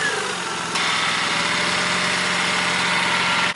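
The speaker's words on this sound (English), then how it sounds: "we need to turn your car on." A car engine catches and settles into a steady, continuous idle, a close broadband rumble with a faint rising whine right after it fires.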